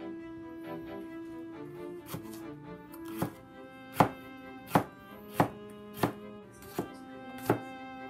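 A knife slices potato into very thin strips on a cutting board, giving about eight sharp, irregular chops that grow louder toward the end over a low steady hum, with no talking.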